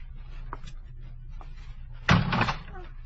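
Door in a vintage detective radio drama, a sudden loud thump-and-rattle of the door opening after a stretch of quiet room hum, close and brief.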